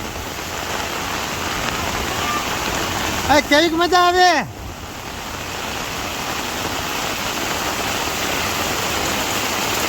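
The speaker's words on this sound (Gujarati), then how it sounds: "અમારે વરસાદની મજા લે છે અત્યારે." Rain pours steadily at a farm, a continuous broadband wash through the whole stretch, with a short burst of people talking near the middle over the downpour.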